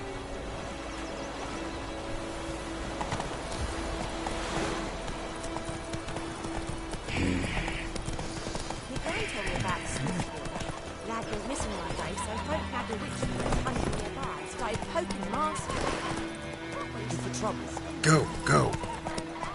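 Horse hooves clip-clop steadily at a run in The Witcher 3, with an occasional neigh, under frequent speech and game sounds throughout.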